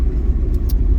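A 1959 Cadillac sedan with overdrive driving through a neighborhood while stuck in second gear, a loud, steady, close low engine rumble throughout.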